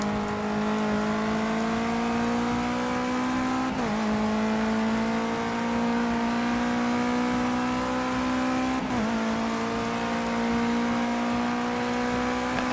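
Race car engine in Project Cars 2, a steady loud high-revving drone with two brief dips as the driver brakes hard and shifts down, then climbs again, with no talk.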